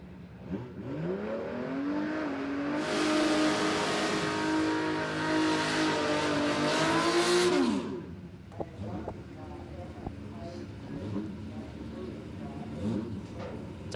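A drag racing ute and a car launch side by side down the Palmyra Raceway strip, Andrew McLennan in one lane, with a loud, sustained high-revving engine roar that cuts off sharply, leaving quieter rumbling and commentary underneath.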